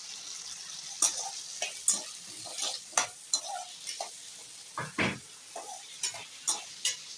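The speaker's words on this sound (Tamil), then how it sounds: "சின்ன வெங்காயத்தை நல்லா பொன்னிறமாக வணக்கிக்கணும் அது கூடயே கொஞ்சம் பூண்டு போட்டுக்கலாம்" Shallots and garlic sautéing in a pan, stirred repeatedly with sharp scraping strokes over a steady sizzle, close and moderately loud with no talking.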